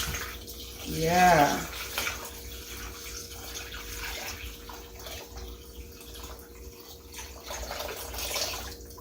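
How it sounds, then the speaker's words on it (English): Fresh tap water runs steadily while raw salmon is rinsed, with a brief splashy surge near the start and continuous trickling afterward; a voice speaks a single short word. "We're going to rinse the salmon,"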